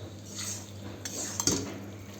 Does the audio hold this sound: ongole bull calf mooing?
no